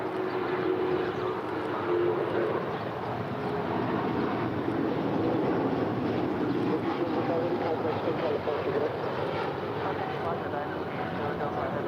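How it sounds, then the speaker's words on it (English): A China Airlines heavy jet rolls down runway 25 right at LAX, its engines making a steady, loud broadband roar that holds for the full stretch, with voices talking over it. "Rolling down 25 right. Dynasty Flight 5, headed to Taipei."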